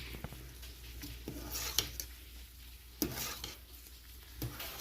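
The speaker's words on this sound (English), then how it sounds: "Stir it up." Pork pozole verde being stirred in a pot over medium-high heat, with a soft continuous simmer and sizzle broken by several sharp clinks and scrapes of the spoon against the metal, fairly quiet and close.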